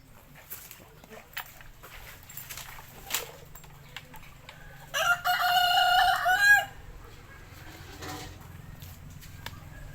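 Pet chickens and a rooster in a farm pen alongside ducks and pigs: scattered clucks and soft farmyard noises, then a loud rooster crow near the middle, with distant background activity.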